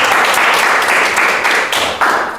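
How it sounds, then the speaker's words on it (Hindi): A crowd at a general-knowledge quiz claps loudly for a contestant who answered correctly, a brief dense burst of applause that tapers slightly near the end. "सोनू टुडू के लिए एक जोरदार ताली होना चाहिए।"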